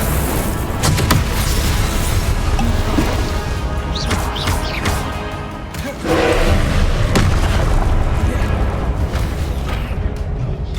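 Confringo and Incendio spell blasts in Hogwarts Legacy burst as loud booming crashes in a continuous barrage of combat noise, with one brief lull partway through.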